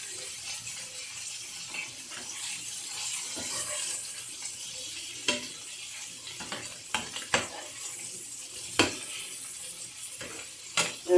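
Beef sausage sizzling softly in a pan for a Jamaican dinner, with occasional sharp scrapes and clinks of a utensil stirring against the pan over a steady faint frying hiss.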